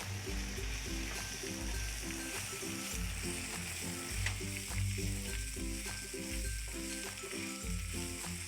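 Browned onion, ginger garlic paste and cashews sauté in a pan for malai seekh biryani, giving a steady close sizzle and frying crackle beneath rhythmic background music.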